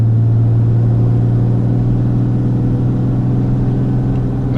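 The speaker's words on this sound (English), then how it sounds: "Now I'll manually shift into 5th." Engine of a RAM 2500 pickup truck with a slipping 68RFE automatic transmission, a loud, steady low rumble while driving, heard close and continuous with no talking; no distinct gear change stands out.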